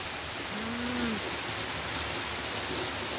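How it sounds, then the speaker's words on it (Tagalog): Heavy rain pours down steadily, a dense unbroken hiss with a faint low tone briefly rising through it. "ulan malakas."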